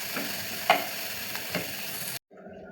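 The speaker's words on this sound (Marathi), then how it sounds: "सो आपला कांदा छान परतत आलेला आहे" Chopped onion with finely cut coriander sautéing in oil in a pan gives a soft, steady sizzle with a couple of stirring clinks, then stops abruptly near the end.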